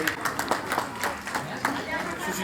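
Audience applause at a birthday celebration at the Shri Guru Ravi Dass Temple in Samba, a run of separate sharp claps mixed with crowd chatter and a voice speaking over them.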